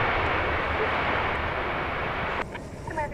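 Broadband roar of an American Airlines jet on its takeoff run from runway 18 left at DFW airport, steady and loud throughout, with a brief faint tonal voice chirp near the end.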